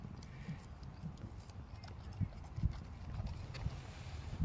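A horse nearby with soft rhythmic thuds and shuffling hoof steps as it moves while grazing, plus faint chewing and rustling, quiet and close.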